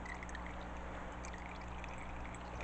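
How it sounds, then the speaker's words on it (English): Water squeezed and pressed out of drained cauliflower, a steady soft trickling pour running continuously and fairly quiet, with no voices. "more water is coming out"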